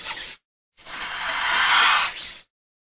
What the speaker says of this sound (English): What sound does a snake make?